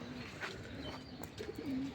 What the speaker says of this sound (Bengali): দুইটা কবুতর কিন্তু ছাড়লো।